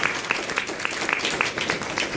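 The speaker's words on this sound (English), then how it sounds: "Let's give a big round of applause to our Senate candidates." A debate audience applauds Senate candidates with a steady patter of many hands clapping, moderately loud and sustained throughout, with no speech over it.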